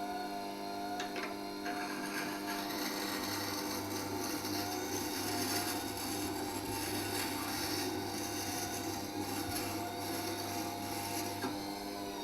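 A carving V tool being ground on a Record Power WG250B grinder with a short tool jig produces a steady, continuous raspy whir and scraping hiss throughout, fairly faint, with no talking.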